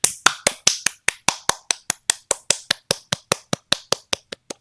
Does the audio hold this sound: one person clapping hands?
yes